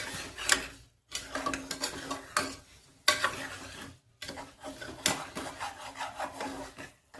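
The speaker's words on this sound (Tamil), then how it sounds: "இதுவும் தண்ணி கொதிக்குதுங்க" Water boiling in a cooking pot during home tomato rice preparation, with crackling, hissing bursts interrupted by two short pauses, close and moderately soft.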